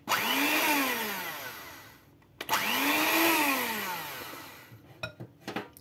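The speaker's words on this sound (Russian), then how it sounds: "обнаружил, что и миксер скоро тоже выйдет из строя. Хотя здесь должна быть самая максимальная скорость" A cheap electric hand mixer, near and loud, runs at top speed with a strained motor whine that rises and falls in two long bursts, cuts out briefly between them, then ends in a few clattering knocks.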